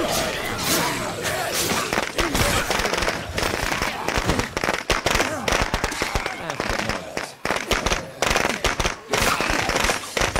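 In the video game State of Decay 2, an explosion sets off a dense, loud burst of crackling blasts and rapid bangs that fills the whole stretch without a break.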